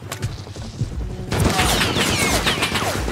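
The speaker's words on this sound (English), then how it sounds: "That's them getting shot at." Gunfire in the survival game Rust, scattered shots at first, then a sudden loud sustained fusillade of rapid cracks and booms that fills the rest of the moment.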